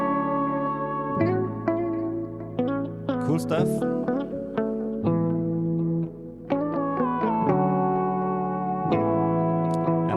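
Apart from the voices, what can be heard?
guitar with delay, reverb and left-ear harmonies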